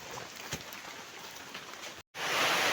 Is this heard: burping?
no